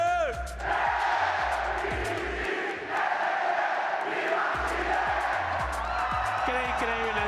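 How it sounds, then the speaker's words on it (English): A Chilean crowd chants CHI-LE at a Valorant Masters Santiago playoff match between PRX and G2, a loud, roaring arena chant of rhythmic shouts and whoops with a voice ringing out over it. "Like Leonidas rallying the Spartans. The crowd work here has just been incredible to watch"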